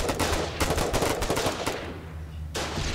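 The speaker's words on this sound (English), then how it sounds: "Come on, guys, shoot the foxhole." Gunfire in the video game Foxhole: dense rapid bursts of shots crackle loudly for about two seconds, stop briefly, then start again.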